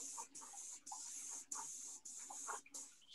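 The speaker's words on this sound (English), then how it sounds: "So I usually like to test my spray pattern just on an index card" Airbrush spraying paint onto an index card to test its pattern: a steady close hiss in bursts, with brief stops between passes.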